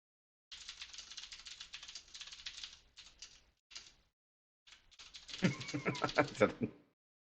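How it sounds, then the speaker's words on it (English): Rapid, intense typing on a computer keyboard produces dense bursts of clicking keystrokes with short pauses between them, close by and fairly quiet. "The intense typing."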